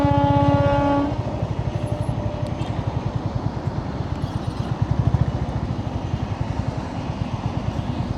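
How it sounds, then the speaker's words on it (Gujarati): A freight train rolls past a level crossing in the winter midday, opening with a long horn blast, then a loud, steady rhythmic clatter of wagon wheels over the rails, close by. "આવે છે ટ્રેન, માલગાડી છે ભાઈ."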